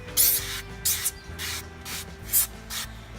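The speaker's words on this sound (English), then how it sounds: "Let's give it a good spray on the sides." Several short hissing bursts of an aerosol olive oil cooking spray coating the sides of a casserole dish, each lasting a fraction of a second, close by, with a faint low hum underneath.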